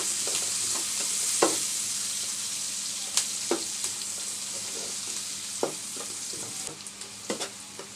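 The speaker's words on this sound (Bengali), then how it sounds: "আমার পেঁয়াজটা ভাজা হয়ে গেছে" Onions sizzle steadily in hot oil while cooking chicken pasta, with scattered clinks and scrapes of a spoon stirring the pan.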